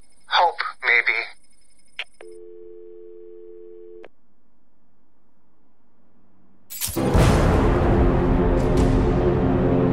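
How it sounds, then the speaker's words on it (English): A telephone rings in the video game Batman: Arkham City: a steady electronic ring tone sounds for about two seconds after a short burst of voice, then loud, dense, noisy game action takes over. "There's a phone ringing somewhere."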